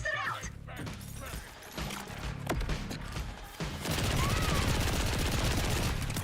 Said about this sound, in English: Incendiary gun.